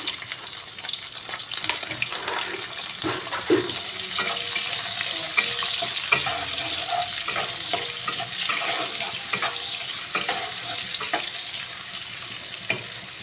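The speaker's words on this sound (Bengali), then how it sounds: "পেঁয়াজগুলো একটু ভাজা হবে, ব্রাউন কালার হবে।" Chopped onions fry with bay leaves in oil over a high gas flame, a loud, continuous sizzle overlaid with frequent scraping and knocking as the pan is stirred close up.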